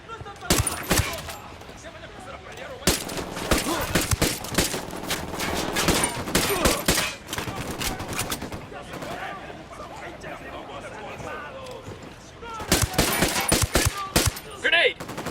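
Bursts of automatic gunfire and rapid shots from a Ghost Recon Wildlands firefight, loud and dense, with clusters near the start, through the middle and again near the end, while voices speak over the shooting.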